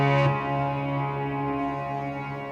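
A Moog Model D synthesizer played through an Eventide pitch-shifting pedal holds a rich, sustained buzzy tone with layered harmonics and a slight chorus-like shimmer, loud and alone, fading gently after a brighter opening attack.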